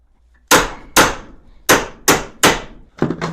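Sharp metallic strikes of a hammer on a 3/8-inch steel rod clamped in a vise, about six loud, ringing blows at an uneven pace, close by and alone.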